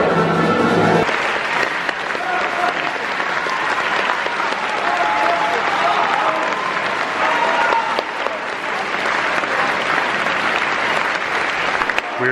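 A ballet audience at the Bolshoi Theatre in Moscow applauds loudly and continuously after a performance, a dense, sustained wash of clapping filling the hall.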